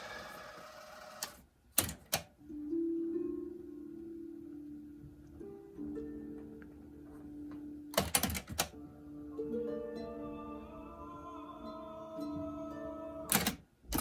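A cassette tape fast-forwards in a player, with sharp mechanical key clicks and a steady whirring motor whine that runs between them, close and fairly loud.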